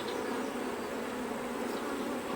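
Honey bees hum steadily around an open hive being checked and treated for varroa mites. The dense buzzing stays continuous and close, with no voices.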